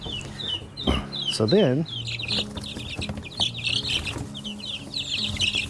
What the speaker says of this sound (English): yes, go on, baby chicks.